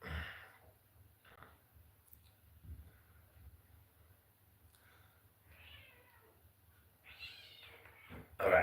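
Domestic cat meowing in short, faint calls spread across several seconds, with a louder, closer meow near the end over a quiet background hum.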